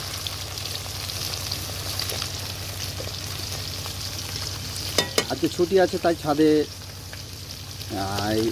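Fish fries in a wok over a wood fire on a rooftop on a winter morning, a steady close sizzle and crackle with occasional stirring scrapes, as someone talks over it in the latter part.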